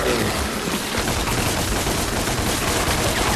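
Dense, loud gunfire from the video game DMC, a continuous rapid barrage of overlapping shots with no pauses for the whole stretch.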